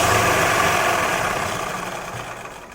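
A motorised sewing machine runs with a steady mechanical hum and rattle, loud and close, slowly easing down in level toward the end, with no voices.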